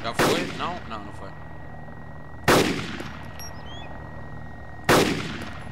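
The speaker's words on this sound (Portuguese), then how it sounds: "Estão a disparar aqui para dentro" Three sharp gunshots ring out from the DayZ Epoch mod, spaced about two and a half seconds apart, each with a loud crack and a long decaying tail.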